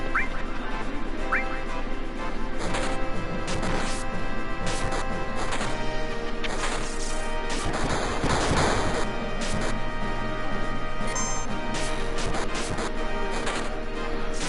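Gunfire and crashing impacts from shooting birds in Final Fantasy 7, a loud, dense run of repeated blasts and smashes over continuous game music, with occasional quacks mixed in.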